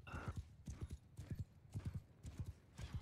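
Horse hooves clip-clop in quick repeated beats from a cavalry charge in a medieval PvP battle game with cataphract riders, close and steady, with a brief whinny near the start and no talk over it.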